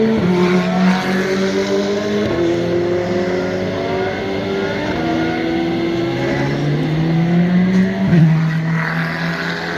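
Ferrari 512M racing around a circuit among many Ferraris, its engine note rising and falling through gear changes with other cars blending in, loud and continuous with no talk.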